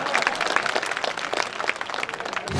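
Applause from the crowd at a BJP party workers' meeting, a busy, uneven patter of many hands clapping at moderate loudness for a couple of seconds.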